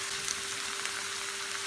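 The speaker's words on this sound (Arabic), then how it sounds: "هلا منكفي البصلة على الغاز" Sliced onion frying in a pan on a gas stove gives a steady, even hiss of sizzling that carries through without pause or voices.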